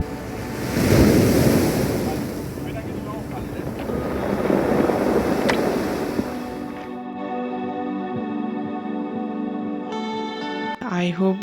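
Ocean surf at Rivière des Galets Beach, Mauritius, rolls in loudly with heavy wind rumbling against the microphone, then the roar drops away and a steady tonal hum carries on.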